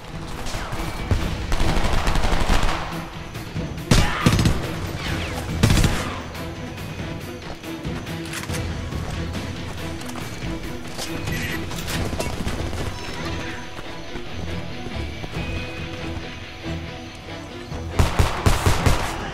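Gunfire in the Homefront video game: loud bursts of automatic fire at the start, again midway and at the end, separated by a quieter stretch of rumbling battle ambience.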